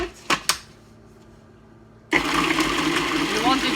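After a few soft knocks and a quiet pause, a blender suddenly roars to life, whirring steadily as it purees kiwi, mango or apricot fruit for homemade oven-baked fruit roll-ups.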